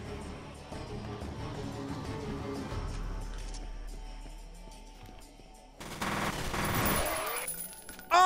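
A video game weapon fires full-auto in a dense rapid stream, continuing for several seconds before a louder, brighter burst near the end.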